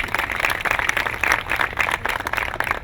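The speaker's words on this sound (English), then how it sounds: "give her a round of applause" Crowd applause at an outdoor park revitalization kick-off event, steady dense clapping from a gathered audience throughout, moderately loud with no speech over it.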